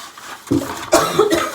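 A few short, harsh coughs in quick succession from a woman with a lingering cough, close and fairly loud.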